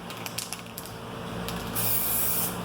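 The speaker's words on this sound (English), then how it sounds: "you just shake the can and spray." A few light clicks, then a steady hiss from an aerosol can spraying car headlights that grows louder as the spray continues.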